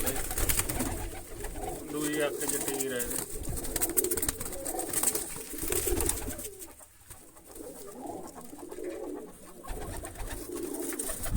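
Pigeons, including a female Jaipur pigeon, coo in soft, repeated throaty calls close by, while a person talks over them.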